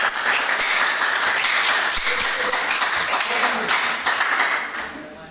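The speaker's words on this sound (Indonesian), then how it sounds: "berikan tepuk tangan" A classroom of students applauds a student group after its presentation, loud and continuous clapping from nearby hands that holds steady before tapering off at the end.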